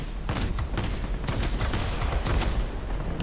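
A World of Warplanes XP-58 rear gunner fires machine guns in quick clattering bursts, close and continuous across a few seconds, with no voices.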